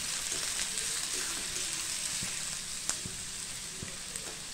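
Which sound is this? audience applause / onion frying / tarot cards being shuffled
onion frying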